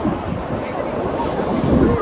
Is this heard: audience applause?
no